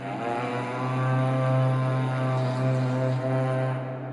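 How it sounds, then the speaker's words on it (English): A deep, sustained brass war horn sample patch drones steadily and loudly for several seconds, thick and heavy, with no other sounds around it. "It's so beefy, these horn sounds."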